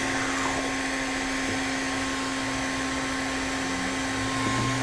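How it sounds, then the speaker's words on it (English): A vacuum cleaner runs continuously at close range, giving a loud, steady motor whine and airy roar with no breaks. "Sounds like a vacuum."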